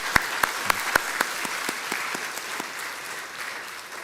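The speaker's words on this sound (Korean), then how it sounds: "인사할 때 격려의 박수 해주세요" A church congregation applauds during a Sunday service, a steady wash of many hands clapping with a few sharp, louder claps near the front early on, fading slightly toward the end.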